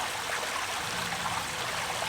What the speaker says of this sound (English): I really hope that the sound of the waterfall is not like ruining this video